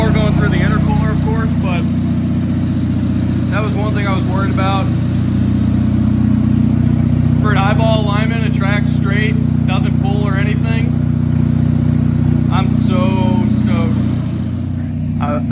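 A steady car engine drones continuously underneath, the car running and driving for the first time after sitting for four and a half years, while someone talks over it in bursts throughout.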